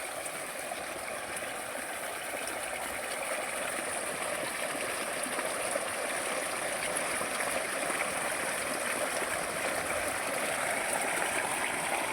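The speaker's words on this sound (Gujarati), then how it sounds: "જોઈ લો મિત્રો પાણી પણ ચાલુ થઈ ગયું છે" Irrigation water flows steadily across a farm field, a constant broadband rushing that stays level throughout with no voices.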